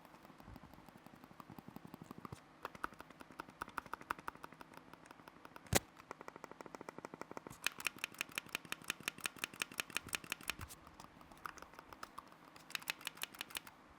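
Soft, rapid clicks repeat in quick bursts, quiet and muted from a Logitech Pop Mouse's left and right buttons, with brief pauses between runs and no voices.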